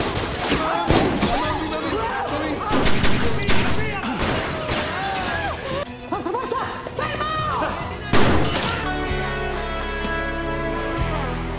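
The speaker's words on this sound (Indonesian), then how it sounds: "Setelah itu terjadilah baku tembak di antara mereka." Gunfire during a shootout in a film scene, dense bursts of shots and impacts throughout, mixed with music and loud effects, with voices heard intermittently.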